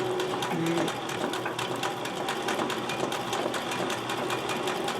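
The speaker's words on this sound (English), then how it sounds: "you can do it in the direction you're sewing, like I'm doing here, so that the zigzag fills it in side to side" A sewing machine runs a zigzag embroidery stitch, a steady close whirring with rapid even needle clatter throughout, continuous and without talk.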